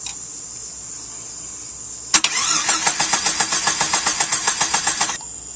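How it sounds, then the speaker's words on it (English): Starter on a Jeep Wrangler YJ cranking the engine: a sharp click, then about three seconds of rapid, rhythmic, loud cranking pulses that stop abruptly, with a steady high-pitched whine before and after. "I'm going to turn the starter over, and you should see this test light light up."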